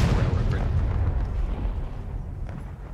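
Cannon fire rumbles through a large multiplayer Civil War river-crossing battle game, a dense, continuous low boom and roll of distant artillery with no clear single shot standing apart.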